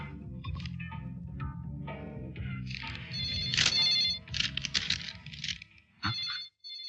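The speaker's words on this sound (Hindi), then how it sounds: "तेरा फोन था।" A telephone rings in repeated electronic trills over a low background murmur, fairly close and clear.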